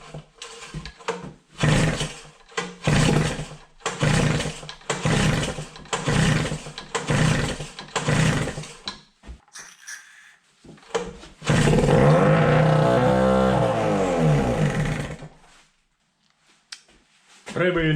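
Evinrude outboard motor being repaired and tested: a series of rhythmic pull-start bursts, then the engine catches and runs loudly for a few seconds before cutting out, with a brief restart at the end.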